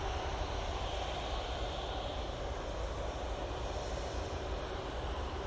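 An airplane taking off at Manchester Airport gives a steady, loud engine roar that fills the whole stretch without a break, heard from a distance with broad rushing noise and no voices.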